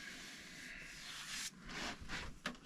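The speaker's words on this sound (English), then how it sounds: "See what a sanding will do." Faint, quiet rubbing of sandpaper on wood, with a few short strokes standing out near the end.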